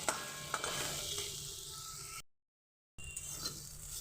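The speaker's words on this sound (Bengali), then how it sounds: "এবার নাড়াচাড়া করে পাঁচ মিনিট আমি ভালোভাবে ভেজে নেব বড়িগুলোর সাথে" Vadi lentil dumplings frying with gima greens in a pan, a steady close sizzle broken by scraping stir strokes, cut off by a short silent gap before the frying resumes.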